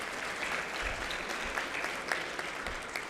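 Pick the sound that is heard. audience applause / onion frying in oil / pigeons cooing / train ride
audience applause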